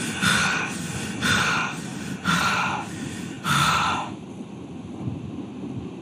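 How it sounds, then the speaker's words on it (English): A person pants demonstratively, four loud, breathy exhalation bursts about one second apart close to the microphone, then quieter breath noise trailing off. "So that is a pant."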